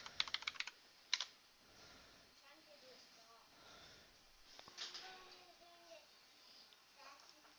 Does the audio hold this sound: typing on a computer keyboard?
yes